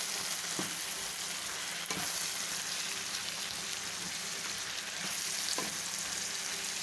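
Fresh brown mushrooms sizzle and crackle steadily in a hot pan, with a few faint scrapes and knocks as they are stirred, quiet and close.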